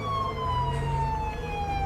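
A police car siren in the GTA V video game with the LSPDFR mod, a loud steady wailing tone that slowly falls in pitch over a constant engine rumble, with no talking.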